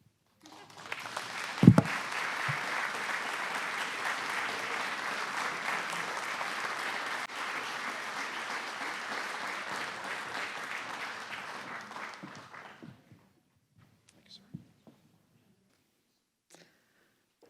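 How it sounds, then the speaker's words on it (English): An audience applauds steadily at a Veterans Day ceremony, a sustained broadband wash of clapping with one sharp thump early on, holding for about twelve seconds before stopping abruptly, followed by a few scattered faint claps and near silence. "Let's have another round of applause for retired Major General Mr. William J. Maul, Jr."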